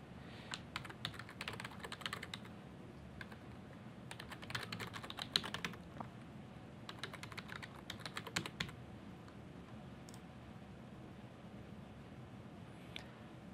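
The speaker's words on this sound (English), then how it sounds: "I'll type in my username and password again." Clicks from a computer keyboard come in several bursts as a username and password are typed, quiet and close, with short pauses between runs and a low room hum underneath.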